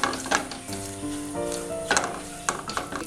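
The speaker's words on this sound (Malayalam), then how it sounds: "സ്റ്റൗ ഓൺ ചെയ്യാം. ഓൺ ചെയ്തിട്ട് ഇതൊന്ന് മൂപ്പിച്ചെടുക്കുക." Cumin and Arabic masala roasting in hot oil on a stove, a steady close sizzle with occasional scraping stir strokes and a faint tonal hum underneath, no talking.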